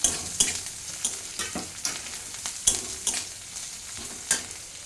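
Chilli and chopped onion fry and sizzle in a pan, with repeated sharp clinks and scrapes of stirring over a steady hiss, close and clear with no talking.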